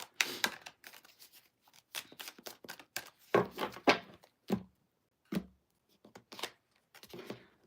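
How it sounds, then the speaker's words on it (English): A tarot card deck is shuffled and split by hand, giving a run of crisp, close riffling and slapping bursts separated by short silences, with no talk. "3 more shuffles, and then we're going to split the deck."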